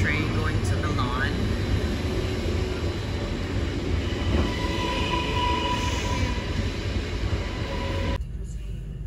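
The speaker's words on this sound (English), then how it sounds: "leaving the same time as a train going to Milan." A passenger train bound for Milan pulls out of the station in Lugano, Switzerland, a steady, loud rolling rumble with faint higher squeals running throughout.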